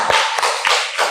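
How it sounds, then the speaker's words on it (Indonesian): Classroom students applauding a group, a few loose bursts of hand claps and taps spaced irregularly, close and fairly loud, with no talking. "Tepuk tangan untuk kelompok 1."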